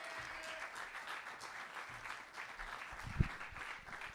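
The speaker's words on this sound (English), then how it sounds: "I could tell you didn't mean those claps" Audience applause at a live stand-up comedy show, a steady wash of clapping from a crowd at moderate distance, holding evenly for several seconds without talk.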